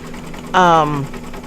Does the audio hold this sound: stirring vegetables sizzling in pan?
no